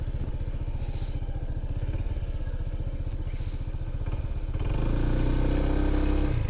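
Motorcycle ride near tourist spots in Infanta, Quezon: a steady, close engine putter with rapid regular firing pulses, rising into a louder, rougher rumble toward the end, with no talking heard.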